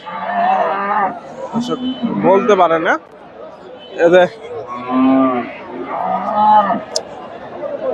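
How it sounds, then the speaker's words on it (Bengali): Friesian dairy cows and calves mooing repeatedly at a busy cattle market in Bogura, loud, drawn-out calls close by, with people talking throughout and crowd chatter underneath. "এই সুন্দর একটা গাভী দেখতেছি ভাইয়ের কাছে"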